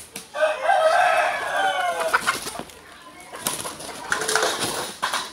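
Young Indian game roosters about six and a half months old crow nearby, a drawn-out rough crow followed by another later, with clucking and bird calls around them.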